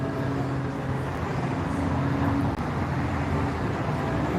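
Steady, fairly loud street traffic rumble on an Austin road, continuous throughout, with faint music from across the street mixed in.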